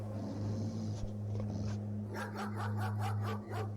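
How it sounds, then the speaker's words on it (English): A dog growls low and then breaks into a series of sharp barks in quick succession, heard over a steady low hum, with no talking. "Her growling turned into barking"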